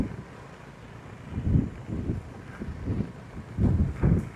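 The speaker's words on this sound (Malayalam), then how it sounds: "ഇമാതിരി കാറ്റില് മേത്തുന്ന തുണി തന്നെ ഊരി പോവും." Strong wind buffets the microphone on Agatti Island in Lakshadweep, heard as a steady broadband rush with repeated louder low gusts swelling and fading, and no voices.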